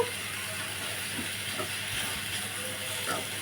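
Onions fry in a pan with a steady, dense sizzling hiss that runs unbroken and fairly loud, with a few faint clicks and pops scattered on top.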